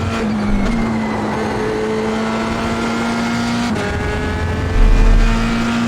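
Formula 3 race car engine at Sebring in iRacing, a steady high-pitched drone through the gears with sharp pitch jumps at each shift, continuous and close throughout.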